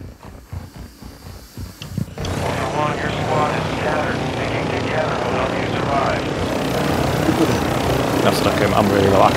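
Helicopter rotor from the night-time DMZ video game mode, a steady loud churning drone that kicks in after about two seconds and runs to the end, with people talking over it.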